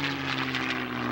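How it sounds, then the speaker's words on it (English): A P-51 Mustang propeller aircraft engine drones with a deep, steady, throaty roar at an airshow, loud and continuous through the short span, with no voices. "Listen to the sound of the Mustang."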